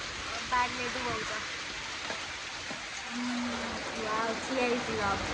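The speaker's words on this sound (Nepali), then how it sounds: "यस्तो पानी पऱ्यो यहाँ" Heavy rain falls steadily in a broad, even wash of noise, with a person talking over it at moments and a brief tonal sound partway through.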